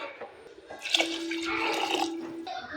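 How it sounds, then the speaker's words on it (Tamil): Water trickles and splashes softly as it is poured into a cooking pot of mixed food, a faint, steady liquid flow lasting a couple of seconds. "அடுத்து நம்ம தண்ணி சேர்க்க போகிறோம்."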